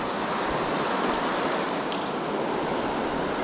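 White water rushes along the Smith River, a dense, steady roar of churning rapids that fills the scene without letup, close and loud.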